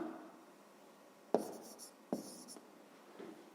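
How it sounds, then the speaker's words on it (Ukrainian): A pen writes an answer by hand on paper, giving two distinct close scratching strokes each opening with a crisp tap, then a faint third, quiet against a soft room hush, with no speech. "я запишу відповідь тут окремо"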